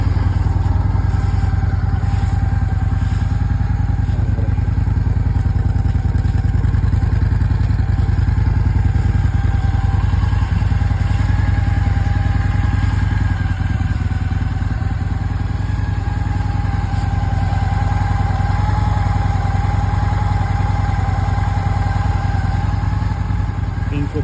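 A warmed-up Honda VT750DC Black Widow motorcycle runs loud and close at a steady idle, its low throbbing engine drone unbroken throughout with no clear start or rev.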